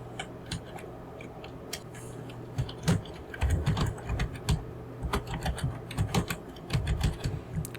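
Irregular bursts of computer keyboard typing while working in HydroLANDSCAPE landscape design software, with close, crisp keystrokes and clicks over a low steady hum and no talking.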